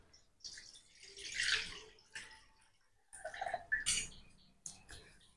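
Milk pours from a container into a pan on a gas stove while making malai, coming in two splashy bursts separated by a short pause, with small drips and clinks between them.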